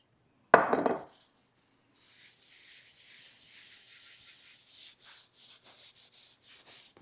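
A sharp clack opens, then oil is rubbed by hand over the back of a cast iron pan during seasoning, a soft, close, uneven scrubbing with short strokes, with no talk.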